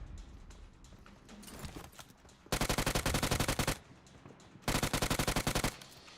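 Automatic gunfire in the mobile battle royale game BGMI (PUBG Mobile): two loud, rapid bursts of evenly spaced shots, each lasting about a second, with softer scattered game sounds between them.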